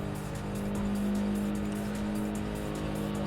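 A race car in Import Tuner Challenge holds a steady, droning engine note at close range, with tire noise running underneath for the whole stretch.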